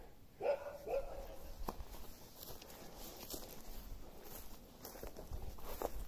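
In a village along a trek in Rajaji National Park, a dog gives two quick barks at moderate distance early on, followed by soft footsteps and outdoor ambience.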